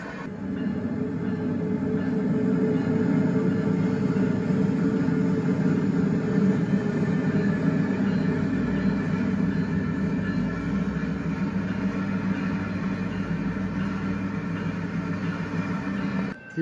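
A BNSF orange freight train with a trailing distributed power unit rolls past, a loud, steady rumble of wheels and cars that holds evenly throughout with no voices.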